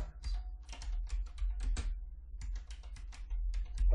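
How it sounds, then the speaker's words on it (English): Rapid keystrokes on a computer keyboard while entering a text label in Revit CAD software, a steady run of close, crisp clicks in bursts with a low hum underneath and no talking. "I'm going to type in attic stairs"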